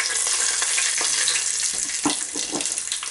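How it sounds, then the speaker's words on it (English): Whole cloves, cumin seeds, cinnamon stick and green cardamom crackle and sizzle in hot oil with butter for Hyderabadi mutton biryani, a steady bright hiss with scattered pops and a few stirring knocks, close and continuous without voices. "Now oil is hot, I'll add cloves, cumin seeds, cinnamon stick, green cardamom,"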